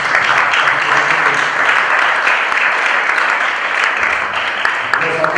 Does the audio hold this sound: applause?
yes